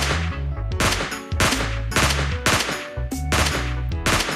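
Rapid bursts of automatic gunfire in PUBG Mobile Lite, loud and close, several sharp volleys with brief pauses between them, alone without talk.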